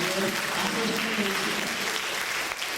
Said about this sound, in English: Let's give Mrs. Gonzalez a real big round of applause